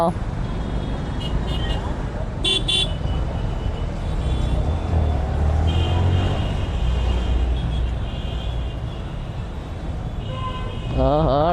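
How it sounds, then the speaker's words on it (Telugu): Heavy road traffic on a rainy city street, a dense steady roar of engines and tyres close by with occasional horn toots, while a person talks over it. "ట్రాఫిక్ గట్టిగా ఉన్నదిగా."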